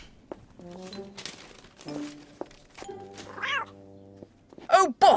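A cat meows several times in drawn-out, wavering cries, with soft thumps and crinkling between them and a short sharper yowl at the end.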